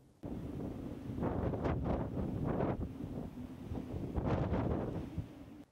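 Strong wind roars and gusts across the microphone high in the mountains of Itatiaia National Park at 2,500 metres, loud and continuous with surging bursts and no voices.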